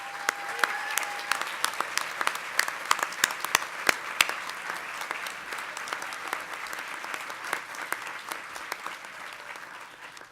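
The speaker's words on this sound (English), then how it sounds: "Please join me in a round of applause." Large audience at a Colorado State University Walter Scott Jr. College of Engineering commencement applauding steadily, dense sustained clapping with sharp individual claps standing out, holding strong throughout and easing slightly at the end.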